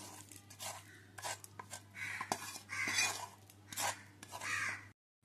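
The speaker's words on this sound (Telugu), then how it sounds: "మొత్తం పోపు అంతా వేసేసి బాగా కలుపుకోండి." A spoon scrapes and clinks against a bowl while tempering is stirred into carrot chutney. The clatter comes in short, irregular bursts, close and fairly faint.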